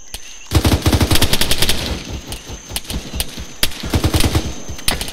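Rapid bursts of automatic gunfire ring out in the military video game ARMA 3, loud and close, in two clustered volleys separated by a brief lull, with sharp individual shots between them.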